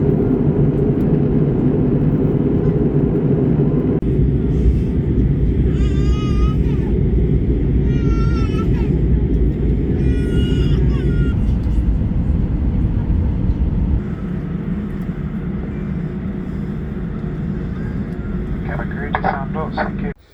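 An airplane landing, heard from inside the cabin as a loud, steady engine roar and rumble that drops slightly partway through, with voices speaking over it.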